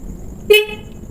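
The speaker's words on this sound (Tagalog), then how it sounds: "tapos ito yung busina natin no" A single short honk of a Honda TMX Supremo motorcycle horn, sharp and close, rising briefly over a low idling rumble.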